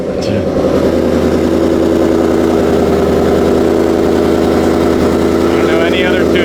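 A Ford Mustang S650 running on E85 with a burble exhaust tune idles loudly and close, a steady deep rumble throughout with faint crackle, while someone talks over it.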